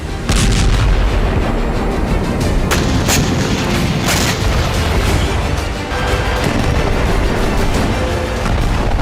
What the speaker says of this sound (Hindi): इसीलिए इजरायली सेना ने एक बार फिर दक्षिणी गाजा पर एयर स्ट्राइक बढ़ा दी है।